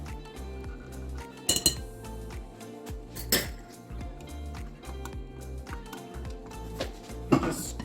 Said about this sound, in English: And then we're going to dump in that vinaigrette.